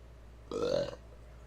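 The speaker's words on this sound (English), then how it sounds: "I keep burping." A single short, low burp from a man sitting at his computer during a live stream, close and clear for about half a second against a quiet room.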